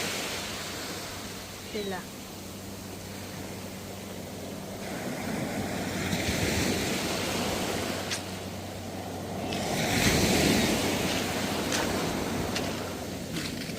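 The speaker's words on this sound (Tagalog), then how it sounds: "ganda ng alon" Ocean surf breaking along the shore at Santa Cruz, California, a continuous broad wash of waves that swells and recedes, with a louder surge near the end.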